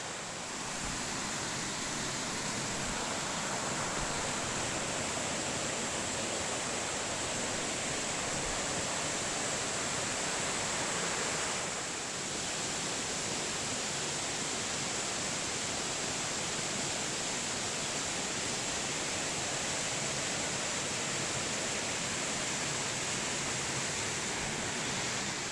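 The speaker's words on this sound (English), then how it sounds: "I think the waterfall's just around the corner, folks" Waterfall in Bunyip State Park, Australia, roaring as a steady, loud, broadband rush of falling water heard up close, continuous and unbroken with no voices over it.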